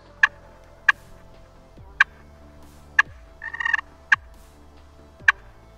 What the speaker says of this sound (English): For clucking on a pot call, you're going to want to press that striker against the calling surface